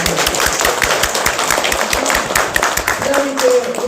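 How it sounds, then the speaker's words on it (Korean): An audience at a book concert claps in a sustained burst of applause, dense and steady throughout, with a voice speaking faintly over it. "거기에 동의하시면 박수 한번 주세요."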